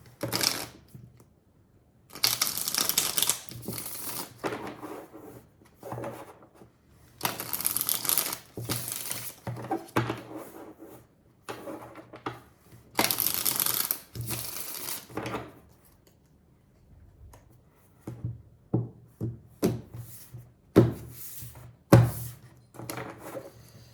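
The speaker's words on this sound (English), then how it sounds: "Shuffling for Scorpio." Tarot cards are shuffled by hand in repeated bursts of crisp riffling and flapping, close and fairly loud, separated by short pauses and lighter taps as the deck is handled.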